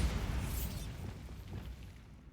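A Bombarda blasting spell goes off in Hogwarts Legacy, and a deep, rumbling explosion starts loudly and then fades over about two seconds.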